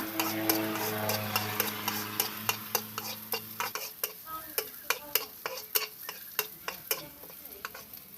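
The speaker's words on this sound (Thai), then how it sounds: "ใส่กระเทียมที่เราสับลงไป เจียวให้เหลืองนะคะ" Chopped garlic frying in a little hot oil in a wok, heard as a soft continuous sizzle with a low hum early on, then a run of sharp, evenly spaced scraping taps from stirring, close and fairly quiet.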